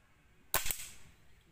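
A single sharp crack from an SDB Sniper nitro air rifle fired at tomato targets at 25 metres, a brief close snap with a quick second transient, alone against quiet background.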